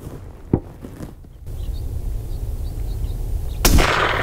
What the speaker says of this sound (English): Let's go ahead and continue shooting that steel plate at the top.